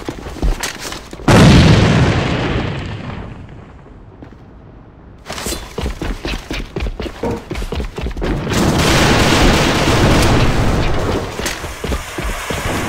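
A grenade explodes in a combat video game with a loud, deep boom that decays over a few seconds, followed by a quiet gap and then rapid gunfire and rumbling battle noise.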